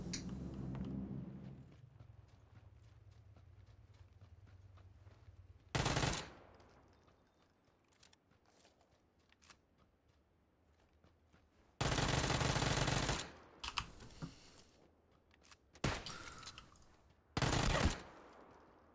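Uzi fire in PUBG crackles in several short, loud bursts separated by quieter gaps, with a low hum fading early on.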